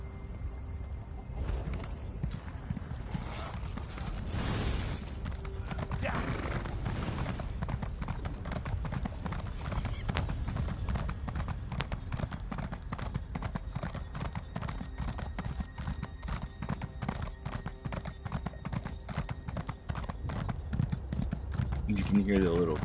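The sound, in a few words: horse hooves clinking in Elder Scrolls Online video game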